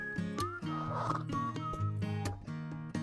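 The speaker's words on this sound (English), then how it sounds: "we're going to go ahead and head outside to feed the horses" A horse whinnies close by, with snorts and grunting sounds from animals mixed in over a few seconds.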